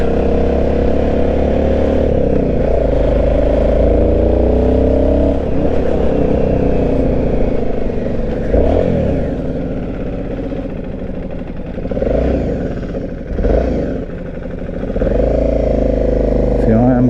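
An Aprilia Shiver 750 motorcycle engine runs loudly throughout, with rising and falling revs and gear changes, while a voice talks over it.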